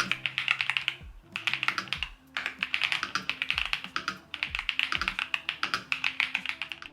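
Typing on a Royal Kludge S98 mechanical keyboard with a Dutch layout, close rapid clacking keystrokes in quick bursts with short pauses between them.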